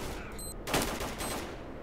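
A Vintorez suppressed rifle firing in the video game STALKER, heard as a couple of soft, muffled shots close together over dense background noise.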